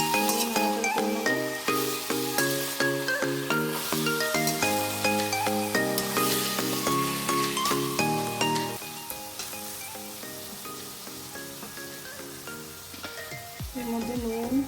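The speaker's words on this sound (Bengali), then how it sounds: "এর মধ্যে ছোলা আর কাঁঠালের বীজ সেদ্ধ করে দিয়ে দিলাম। নাড়াচাড়া করে নেবো।" Boiled chickpeas and jackfruit seeds stirred in a sizzling pan, a continuous frying hiss with steady stirring, all under loud melodic background music.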